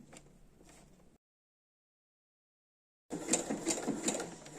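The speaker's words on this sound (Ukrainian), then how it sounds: "ставлю маленьку закріпку і закінчую строчку" A sewing machine stitching a bartack on a seam with a triple zigzag stitch at maximum width and minimum length, heard as a short stitching run, a pause of silence, then a louder rapid stitching burst.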